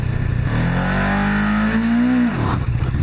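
A motorcycle engine is revved hard for a wheelie attempt, rising from idle into a loud sustained roar close by, holding for about two seconds before dropping back down.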